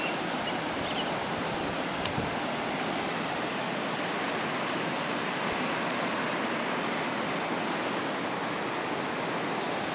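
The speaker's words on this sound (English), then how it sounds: "There's the mouth of my creek. Flows into the larger creek here." A small creek pours into a larger creek at its mouth, giving a steady, full rush of flowing water with no letup, close and fairly loud throughout.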